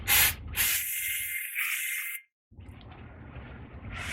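Brake cleaner is sprayed onto a new front brake rotor for a Dodge Challenger to strip off shipping grease, giving close, hissing bursts with brief breaks, then a quieter wet spray.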